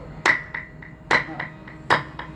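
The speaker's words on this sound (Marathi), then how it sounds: "ही मी टाळी वाजवली, बरोबर आहे?" Sharp hand claps from a performer at a devotional kirtan, three strong claps about a second apart with softer claps in between, close and clear with no talking.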